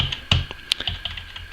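Keys clack on a SteelSeries Apex RAW gaming keyboard, which makes soft, non-clicky presses. A quick, irregular run of close taps with a couple of sharper strikes.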